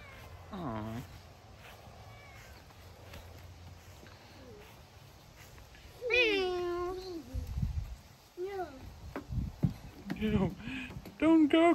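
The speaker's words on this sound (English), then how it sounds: "Is it a friendly cat or?" A cat meows several times, some calls long and drawn out, with people talking nearby between the meows.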